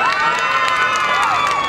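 A crowd at the Binangonan Christmas tree lighting cheers loudly in a short, dense burst of shouts and whoops, with children's voices high in the mix.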